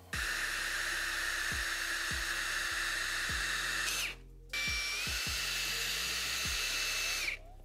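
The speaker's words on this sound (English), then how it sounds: "put the 3000 grit on your drill, and now we're going to use water here" An electric drill wet sanding a car headlight lens with 3000 grit paper and water, a steady high whine running close and loud with a short pause midway before it resumes.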